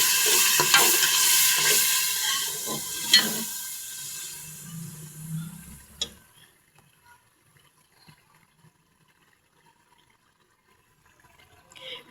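Pumpkin sizzles and hisses loudly in a hot pan with some stirring clatter as water is added, then the frying fades to near silence partway through.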